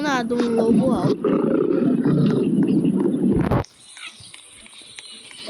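A wolf in a video game lets out a loud, rough growling roar over noisy game sounds, which cut off abruptly partway through, leaving quieter ambience and faint clicks.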